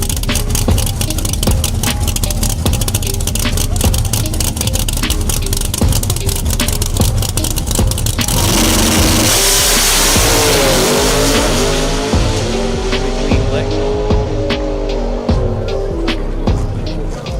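A drag race car makes a test hit pass, its engine roaring loud and close before the sound shifts into a broad rushing blast that gradually fades as the car pulls away.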